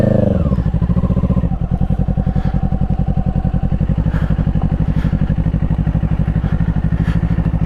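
A Kawasaki Eliminator small cruiser motorcycle revs briefly, then settles into a steady, rapid engine thrum while riding, loud and close throughout, with light mechanical clatter.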